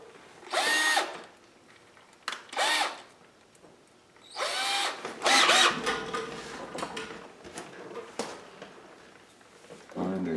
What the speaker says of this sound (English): we'll take a matching drill. Looks like about 1/8 inch.